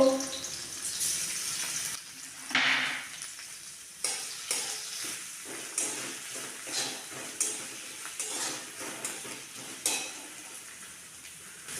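Onion paste sizzling and frying in a pan for potol dorma, a Bengali stuffed pointed-gourd dish, heard close up with a steady hiss and repeated rhythmic stirring scrapes, no talk.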